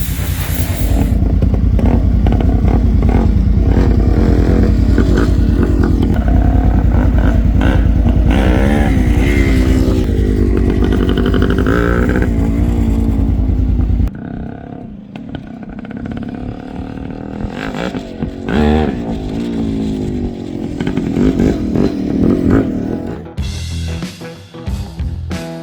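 A Honda CB750 chopper motorcycle runs with a newly fitted exhaust. Its engine idles loud and throbbing with a deep rumble for about fourteen seconds, then falls into quieter, uneven revs and rattling toward the end.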